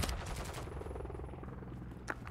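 Rapid bursts of gunfire from a stolen gun in a video game, dense repeated shots crackling close and loud for about two seconds, then a brief sharp crack near the end.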